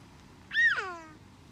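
A cat gives a single clear, drawn-out meow with a falling tail, fairly close and alone against a quiet indoor background.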